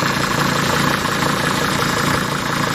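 A T1N diesel engine idles steadily and smoothly, its low, even rumble close and continuous throughout, with no voices over it.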